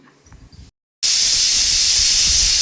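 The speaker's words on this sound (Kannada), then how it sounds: "ಕುಕ್ಕರ್ ಮುಚ್ಚಳ ಹಾಕಿ 1 ವಿಷಲ್ ಕೂಗಿಸ್ಕೋಬೇಕು" A pressure cooker cooking chicken biryani vents steam through its whistle: after a brief quiet gap comes one loud, steady hiss lasting well over a second, close by with no voices.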